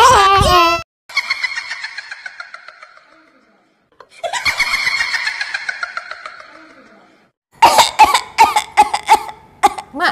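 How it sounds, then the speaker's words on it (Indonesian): Several bursts of coughing, including a rapid run of harsh coughs near the end, separated by pauses and other vocal sounds. "sakit batuk ya?"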